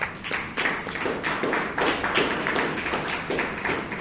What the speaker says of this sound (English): Let's give Toastmaster Guru a good round of applause